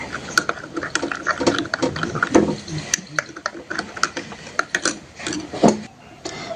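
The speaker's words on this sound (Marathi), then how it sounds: "हलवून घ्यायचं आहे" A spoon clinks and taps rhythmically against a glass while stirring hibiscus sherbet, sharp close ticks repeating steadily with a faint voice in the background.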